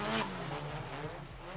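A drift car flung into a slide at a drift competition roars with engine and tyre noise, loud and steady, with a commentator's voice over it.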